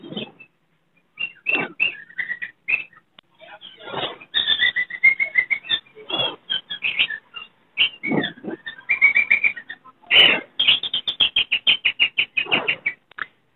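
Lovebirds, including a lutino breeder pair, chirp at a Sunday bird market, with rapid, high, twittering calls in dense bursts and trills throughout, fairly close and with no talk.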